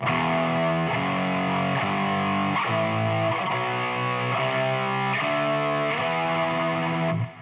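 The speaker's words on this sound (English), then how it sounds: "If you played the entire scale with power chords, it would sound like this." Heavily distorted electric guitar power chords step through a scale, each chord sustained about a second, loud and continuous, no voices.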